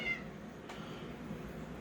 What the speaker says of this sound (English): And there's my cat that won't shut up because she wants breakfast.